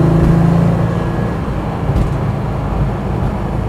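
Engine of a Porsche 964 Carrera RS Clubsport tribute car, newly built and held to about 4,000 RPM during break-in, drones loudly and steadily from inside the cabin, with a brief rising note near the start and no talk.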